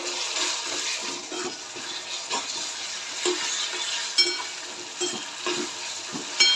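Chopped tomatoes fry with ginger and garlic in a pan, a soft steady sizzle broken by several stirring scrapes and light utensil clinks close by, with no talking.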